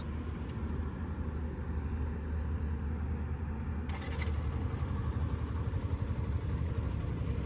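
New Yamaha FZ-S v2 motorcycle with a smooth fuel-injected engine, idling steadily with a low, even rumble and a brief click partway through.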